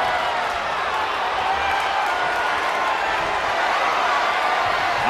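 A WWE wrestling video game crowd roars steadily and loudly throughout, a dense wash of cheering that sits under commentators' talk.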